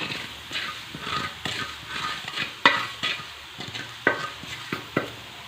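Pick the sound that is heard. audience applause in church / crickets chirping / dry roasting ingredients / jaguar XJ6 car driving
dry roasting ingredients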